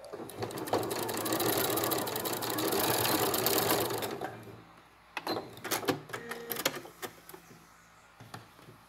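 A sewing machine runs steadily stitching fabric binding, a loud close mechanical whir for about four seconds, then stops, leaving scattered clicks and handling knocks.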